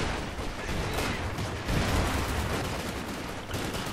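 Sustained machine-gun fire aimed at barbed wire in the World War II strategy game Company of Heroes 2, a dense, continuous crackle of shots and distant artillery, loud and unbroken throughout.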